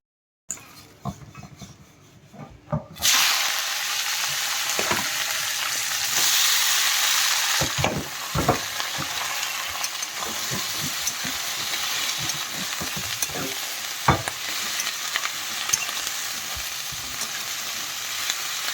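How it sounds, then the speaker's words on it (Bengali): Beetroot, beans and onion fry in a pan with a steady loud sizzle that starts abruptly after a quiet opening, while a spatula scrapes and clinks against the metal at irregular intervals. "বিট, বিনস আর পেঁয়াজ দিয়ে একটা ভাজা করব"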